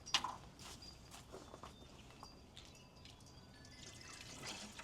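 Water splashes and drips in scattered, irregular drops, quiet and close, with soft movement noises in the background.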